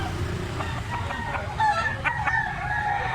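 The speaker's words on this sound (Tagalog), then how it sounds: "Stag nga talisayon guys, 2 kilo ni siya." A two-kilo talisayon stag rooster lets out a short, rough crow over farmyard background noise, with a few clucks leading into it, moderately close.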